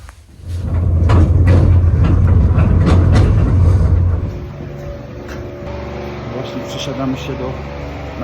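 Mountain cable railway car running in Norway, a loud steady low rumble of the moving car for about four seconds, then a quieter hum as it slows, with people talking over it.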